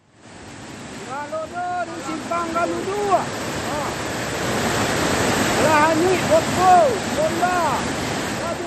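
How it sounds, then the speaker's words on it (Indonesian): A volcanic lahar flash flood, cold rain-driven mud and debris from Mount Marapi, pours through a residential area in Agam, West Sumatra, as a loud, continuous roaring rush of water. Voices call out over the torrent, which grows stronger toward the end. "seperti inilah dahsyatnya banjir lahar hujan saat menerjang permukiman warga di Kabupaten Agam, Sumatera Barat"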